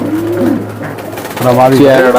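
Racing pigeons kept for sale cooing up close in repeated rolling, warbling phrases, one bout at the start and a fuller, louder bout toward the end.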